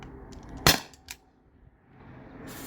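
A single sharp shot from an HDP50 Gen 2 pistol fired through a chronograph, one loud crack followed by a smaller click, with quiet room noise around it.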